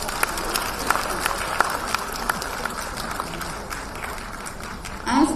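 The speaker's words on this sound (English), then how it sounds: "I think the parents also need a big round of applause." Audience applause for parents at a school annual day show, a steady wash of clapping through most of the span with a louder swell near the end.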